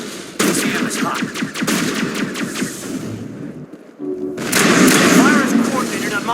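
Gunfire and booming shots in a Mass Effect battle, sounding as dense, overlapping bursts that ease off briefly before another loud stretch of fighting resumes, with radio-style voices speaking over the combat.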